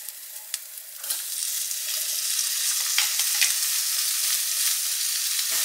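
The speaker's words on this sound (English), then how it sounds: "add in the prawns once I feel like the pan's heating up" Prawns fry in a hot pan with chili paste, a loud, dense sizzle close by that holds steady after a sharp burst as they hit the oil, with a few brief crackles.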